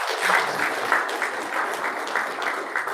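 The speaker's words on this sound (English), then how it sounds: "Clap, clap, clap." Applause from an audience at a panel discussion on pageantry, a dense burst of many hands clapping, moderately loud and continuous for a few seconds.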